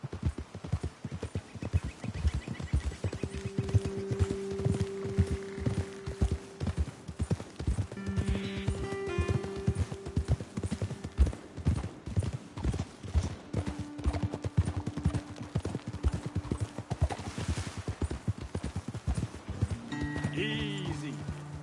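Horse hooves clip-clop steadily in Red Dead Redemption 2, a brisk, even walking rhythm running throughout with occasional whinnies and voices over it.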